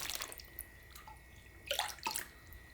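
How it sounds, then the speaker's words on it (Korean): Kimchi broth is poured over white kimchi in a container, giving short splashing and trickling bursts of liquid, close and soft, with quiet pauses between pours. "이렇게 해서 물을 우에서 부어줘요."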